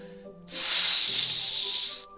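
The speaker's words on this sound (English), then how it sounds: "A sharp inhale, like someone is sucking the air through their teeth." A sharp hissing inhale drawn through clenched teeth, a single sustained airy breath that swells quickly, holds for about a second and a half, then cuts off, heard alone over faint background tones.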